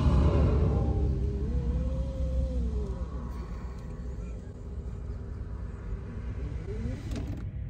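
An electric motor drives the power window up on a Fiat X19 converted to electric power, a faint whining hum rising and falling over a loud low rumble inside the car.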